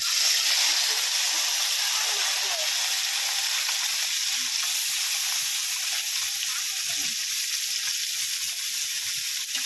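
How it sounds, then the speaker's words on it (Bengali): Small mourala fish frying in hot mustard oil in a kadai, giving a steady, dense sizzle and hiss that holds at an even loudness throughout, close and with no talk. "মাছগুলো ভেজে নিচ্ছি।"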